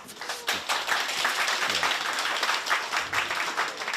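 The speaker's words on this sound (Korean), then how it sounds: "어디서 봤던 박수보다 더 따뜻하네요" Warm, steady applause from a seated audience at a community centre's fifth-anniversary ceremony, many hands clapping together in a dense, continuous patter with no voices on top.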